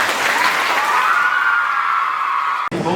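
An audience at a Raksha Bandhan festival prize distribution for sisters gives loud, sustained applause. The dense clapping runs steadily for nearly three seconds, then cuts off abruptly.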